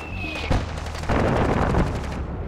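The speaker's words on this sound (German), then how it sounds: "könnte ich rein theoretisch einen Kopfschuss verpassen und die Kugel geht direkt durch" Gunfire in the shooter game Far Cry 4, a loud close gunshot followed by a dense burst of rapid booming shots and rattling fire, heavy and sustained for a couple of seconds.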